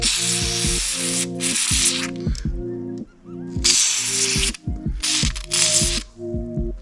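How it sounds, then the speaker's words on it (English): Lubricant sprayed from an aerosol can into a car trunk seal, with several close hissing spray bursts alongside repeated ratcheting mechanical clicks as the trunk mechanism is worked. "take the can vigorously, have the little nozzle in, and just apply it between the plastic and the metal as much as you can"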